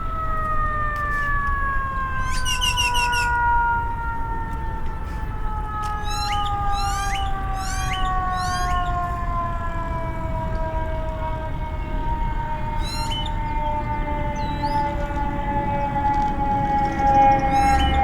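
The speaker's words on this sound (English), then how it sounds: "Possible ambulance coming up." An ambulance siren passes near a hospital beside a flower garden at Mesa Community College, its long steady wail sliding gradually lower in pitch over continuous outdoor background noise, with scattered short bird chirps.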